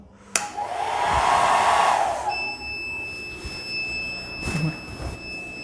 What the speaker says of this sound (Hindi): ये ड्रायर है जो कि 1200 वाट का है, तो मैं इसे कनेक्ट करता हूँ।